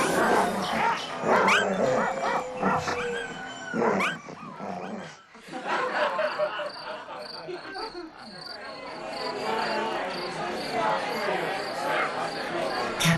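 Several hunting dogs bark and yip excitedly at close range, then fade into a steady chorus of chirping insects.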